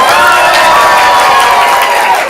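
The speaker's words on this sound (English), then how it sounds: "So applaud now for Sunshine in Portland." A comedy improv audience in Portland cheers loudly, sustained whoops and shouts ringing out together over a brief burst of clapping.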